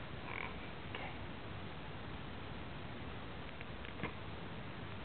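A frog croaks faintly and close by, giving a few soft, scattered croaks over a quiet hiss.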